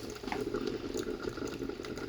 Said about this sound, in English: watching water boil.